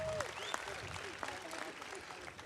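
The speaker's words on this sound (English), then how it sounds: "Another round of applause for Ms. Dominique Bro" Audience applause at a university graduation commencement ceremony, steady clapping filling the short stretch at moderate level with some crowd noise mixed in.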